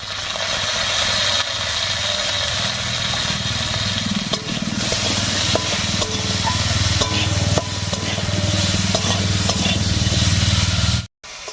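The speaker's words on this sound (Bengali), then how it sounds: "এই অবস্থায় আলুটাকে একটু ভাজা ভাজা মতো করে নেব" Cut potatoes with salt and turmeric fry in a little leftover oil in a wok, giving a loud, continuous sizzle with a steady hum beneath it and occasional spatula scrapes, then a brief cut near the end.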